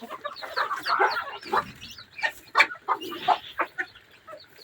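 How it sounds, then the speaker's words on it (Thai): Ordinary farm chickens of mixed sizes, kept together in a yard, clucking in a busy, uneven run of short calls, fairly close and steady with no talk over it. "ไก่เขานี่ไก่ทั่วไป"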